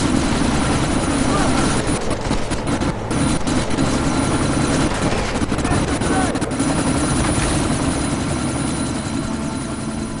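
Helicopter rotors thud steadily in the Deus Ex: Mankind Divided video game, a loud, continuous low chopping drone with heavy engine rumble that persists throughout.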